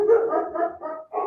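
Puppies yipping and barking in a short, close run of several high, tonal yelps with brief gaps, the last one after a short pause; no talk over them.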